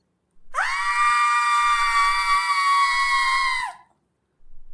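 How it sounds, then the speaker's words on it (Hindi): A single terrifying scream rings out in a ghost story set in a haunted mansion. The shrill, loud, sustained cry holds for about three seconds and then cuts off, with no other sound around it. "फिर एक रोज अचानक से भयानक चीख सुनाई दी"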